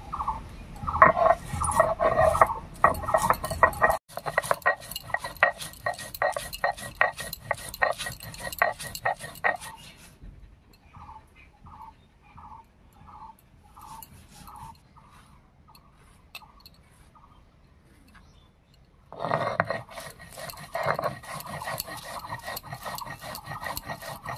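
Prawn paste with black cumin being ground by hand on a sil-nora grinding stone, giving a steady gritty rubbing and scraping with rhythmic strokes, close up, pausing midway into softer separate scrapes before the grinding picks up again.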